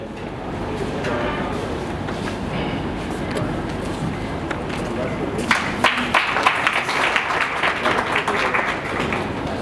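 Audience applause at a bouquet welcome ceremony for a chief guest at a Chamber of Industries & Services event in Saharanpur, a steady crowd clapping that swells louder and brighter in the second half.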